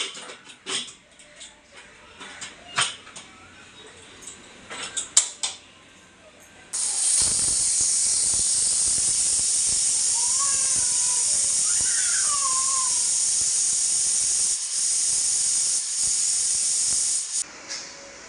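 A pressure cooker cooking masala bhat suddenly lets out a loud, sharp hiss of escaping steam that holds steady for about ten seconds, after a few quieter knocks and clatters in the kitchen.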